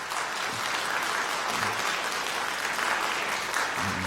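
Congregation in a Korean church Sunday worship service gives welcoming applause for a visiting pastor, a full, continuous clapping from many people in a hall, steady and fairly loud for several seconds, a few low murmurs beneath.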